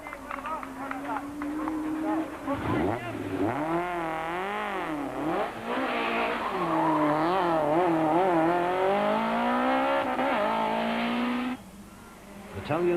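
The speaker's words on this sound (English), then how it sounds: "puts the car into an uncontrollable spin" A Nissan Sentra rally car in the 1993 Tour de Total rally revs hard close by. The engine pitch swoops up and down repeatedly, then holds a high steady note before cutting off abruptly.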